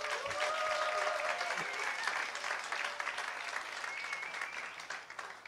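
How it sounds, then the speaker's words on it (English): A gathered audience at a Theology on Tap talk applauds steadily, a fairly quiet, distant wash of clapping with faint voices and a few tonal sounds mixed underneath. "a little applause"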